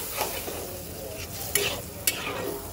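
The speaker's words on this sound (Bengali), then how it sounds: "এখন সবকিছু একসাথে সুন্দর করে কষাবো।" A fried hilsa fish head is stirred into a bubbling spice masala, a constant sizzle broken by a few scraping strokes and two sharp metallic clicks of the spoon against the pan.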